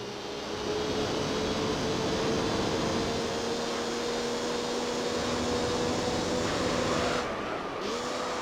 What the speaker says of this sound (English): this sounded like a Cosworth 4-cylinder from the Mercedes 190E Evo 2